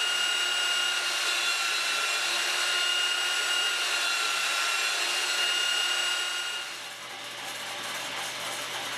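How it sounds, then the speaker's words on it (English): A belt sander runs steadily, smoothing a bandsawn wood piece, with a dense whirring, grinding drone that stays loud and then drops slightly in the last few seconds as the workpiece shifts. "so it's to the belt sander I go to smooth it out"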